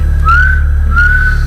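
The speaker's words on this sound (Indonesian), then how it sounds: "itu siulnya bunyi, Mam. 2 kali." Whistling inside a house, two rising tones one after the other over a steady low hum, loud and close with no talking.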